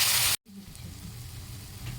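Hot spice mixture with garam masala powder in a pan sizzles and hisses loudly, breaks off for an instant, then carries on as a softer, steady simmering fizz once water is added.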